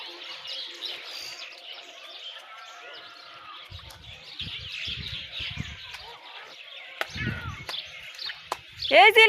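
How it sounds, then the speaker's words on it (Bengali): Birds chirp and tweet outdoors near flowering bean plants in repeated high calls, while soft thumps and muffled voices sound in the background and a louder call rings out at the end. "পাখি শব্দ করে।"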